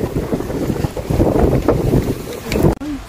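Strong gusting wind on a mountain near the peak of Mt. Buram, roaring loudly and buffeting the microphone without letup, with a brief dip near the end.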